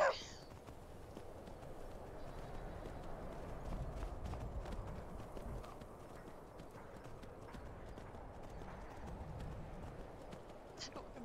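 Horse hooves clip-clop steadily in Skyrim Anniversary Edition, a continuous close walking rhythm over a low rumbling game ambience, with a brief whinny-like sound near the start.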